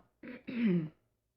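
One close cough in two quick bursts, a short rasp followed by a longer throaty hack, then silence.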